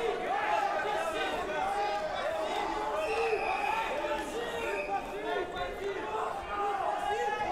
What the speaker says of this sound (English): Crowd getting a little antsy.